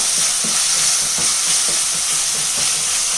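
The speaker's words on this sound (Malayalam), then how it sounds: "നല്ലതുപോലെ ഇളക്കി മിക്സ് ചെയ്യാം. ഇഞ്ചി വെളുത്തുള്ളി പേസ്റ്റിൻ്റെ പച്ച മണമൊക്കെ ഒന്ന് മാറി കിട്ടട്ടെ." Ginger garlic paste fries with onions in a pan while being stirred, a steady close sizzle and hiss with soft rhythmic scraping of the spoon, no talking.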